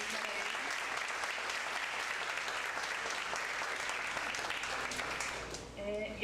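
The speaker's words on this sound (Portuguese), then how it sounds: "Uma salva de palmas, mais uma vez para eles." Audience at a university accounting lecture applauds the speakers, a sustained, dense clapping that fills the room evenly for about five seconds before thinning out at the end.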